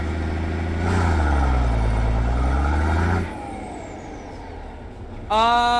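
A fire truck at night rumbles loudly with a deep idling engine, gives a sharp air-brake hiss and drop-off, then a brief harmonic horn or siren-like tone sounds near the end.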